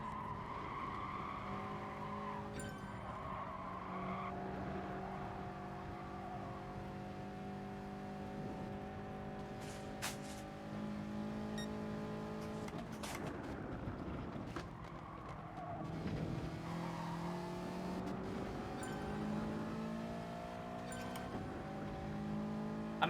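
Toyota 86 race car in the video game Gran Turismo Sport, its engine droning and rising through gears with tire squeal and skidding, a continuous steady roar over the whole stretch.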